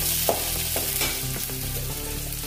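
Coarsely pounded garlic and spices for Maharashtrian harolya pitla being stirred in hot oil, a close sizzle with a few scraping spoon strokes across the pan, no voices.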